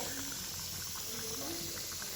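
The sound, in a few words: chilli chicken boiling in the pan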